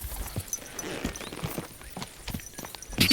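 Horse hooves clip-clop in Kingdom Come: Deliverance II, a medieval open-world game, with a few irregular steps heard fairly close amid light background sound.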